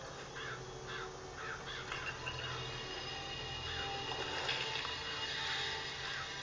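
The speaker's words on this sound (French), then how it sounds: "C'est les corbeaux meurtriers." A murder of crows in an attack in BioShock Infinite, with repeated harsh caws over a steady hiss and low rumble, fairly faint and without speech.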